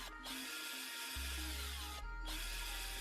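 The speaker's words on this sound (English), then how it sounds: "We'll start with the lid by drilling and cutting out the marked openings." A small power drill whines steadily at close range, drilling a plastic container lid, its pitch shifting as the motor speeds up and slows, with brief pauses between bursts.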